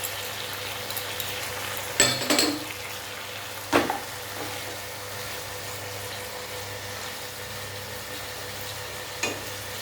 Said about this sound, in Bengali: মশলাটা ভালোভাবে কষানো হোক